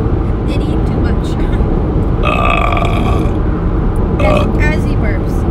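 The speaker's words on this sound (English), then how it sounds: "As he burps." A man in a dark car lets out a loud, drawn-out burp over constant road and engine rumble, with a voice and other cabin noise around it.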